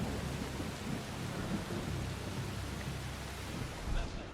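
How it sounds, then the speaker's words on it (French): Steady heavy rain pours in the video game Assassin's Creed Shadows, with low rumbling thunder blended into the constant wash, a slight swell near the end. "Ah, il pleut, ça peut être pas mal pour"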